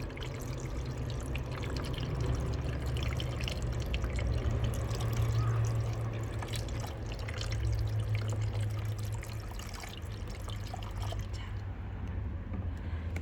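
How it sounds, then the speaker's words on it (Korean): Water pours steadily into a self-watering planter growing basil from seed, a continuous gentle liquid rush with faint drips, close and moderately loud throughout, no talking. "지금 이렇게 물이 차고 있습니다"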